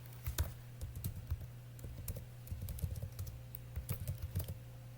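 Computer keyboard typed on at an irregular, steady clip while entering a plot name in a water quality data analysis tool, close and moderately quiet over a low constant hum.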